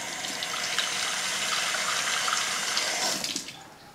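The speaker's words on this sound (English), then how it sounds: "And so now I'm going to get a little bit of water." Tap water running into a container while pepper steak is cooked, a steady close hissing stream lasting several seconds before tapering off.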